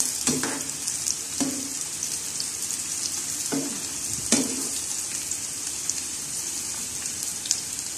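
Potatoes frying in hot oil give a steady, bright sizzle that carries on without a break, with a few soft stirring knocks and spoon scrapes rising out of it now and then.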